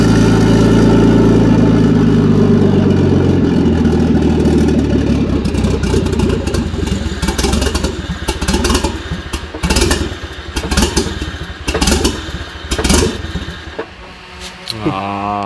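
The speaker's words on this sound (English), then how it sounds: "If you take a look at the engine now, we're up at 600 revs." A Nissan Datsun Bluebird 910 with an RB20DET engine holds a steady low rumble at about 600 rpm idle, then revs unevenly, rising and falling in pitch, loud and close throughout.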